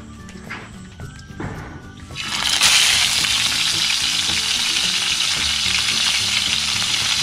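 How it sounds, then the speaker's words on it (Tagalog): Tilapia dropped into hot oil, a sudden loud sizzle after a couple of seconds of quieter background, then a steady frying crackle that continues to the end, with faint background sounds early on. "Habang nagpiprito guys si Tatang"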